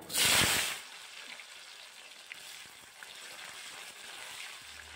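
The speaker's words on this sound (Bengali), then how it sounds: "আলুগুলোকে লাল লাল করে ভেজে নিয়েছি" A brief loud sizzle bursts as potatoes hit hot mustard oil in a pan, then settles into a soft, steady frying crackle with scattered small pops.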